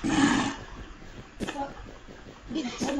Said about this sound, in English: You can hear the lion, he's quite pissed off with you right now.